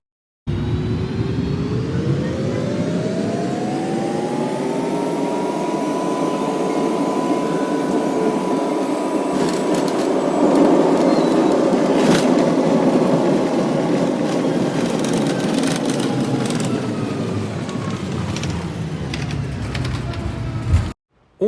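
Singapore Airlines jet landing at Jakarta, heard sped up from the cabin: a steady, loud roar of engine and airflow noise with a rising whine, swelling briefly mid-way and then easing.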